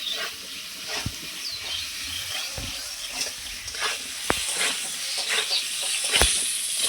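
Potatoes frying in oil with salt and turmeric give a steady close hiss, broken by a few sharp knocks and scrapes of a spatula against the pan, with no talking.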